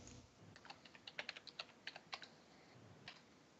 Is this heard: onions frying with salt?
no